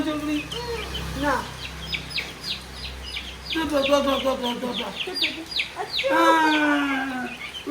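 Chickens cluck in short bursts close by, with some overlapping voices and a steady low hum in the background.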